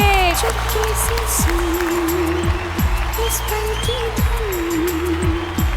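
Loud clapping from a studio audience on a television show fills the clip, a dense wash of applause while voices call out and music plays along underneath.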